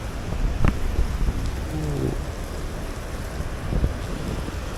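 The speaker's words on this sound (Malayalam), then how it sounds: "ഒടുക്കത്ത മഴ." Heavy rain pours down in Italy, heard from under a shed as a steady, dense hiss with a gusty, windy roar and a couple of brief knocks, no talking.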